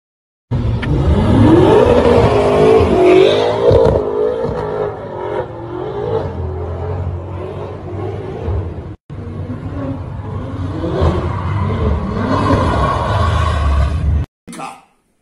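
A brand-new Mercedes-AMG car spins in Ghana, its engine revving loudly and repeatedly in rising and falling bursts, with faint tire squeal and voices talking throughout, then cutting off abruptly.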